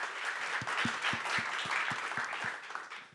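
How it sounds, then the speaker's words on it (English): Applause for panelists at a caregiving event, a steady wash of many hands clapping from a crowd through the whole stretch with a few sharper, closer claps standing out. "Another round of applause for our amazing panelists."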